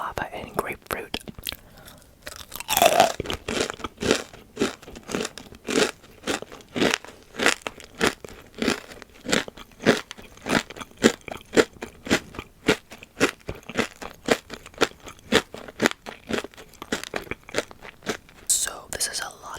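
Guava and grapefruit flavored crystal candy is crunched close to the mic in a steady series of sharp, crisp bites and chews, with soft whispering in between.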